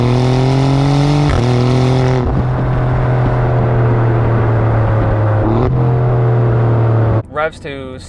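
An Alfa Romeo Giulia Quadrifoglio engine revs loud and close, holding a steady high drone with two quick blips, then dropping off sharply before a last short rev at the end.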